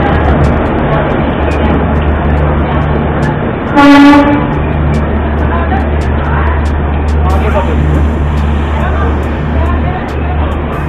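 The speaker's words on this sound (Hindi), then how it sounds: "यहाँ पे अराइवल हो रहा है अपनी हरिद्वार भावनगर वीकली एक्सप्रेस" The Haridwar–Bhavnagar weekly express arrives at a railway platform in Ambala. A loud, steady rolling rumble runs throughout, with one sharp horn blast about a third of the way in and some background voices.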